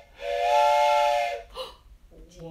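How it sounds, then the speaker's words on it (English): A toy train whistle blows one steady, breathy chord for about a second, then a shorter puff follows, close and loud. "I was looking for this, my train whistle,"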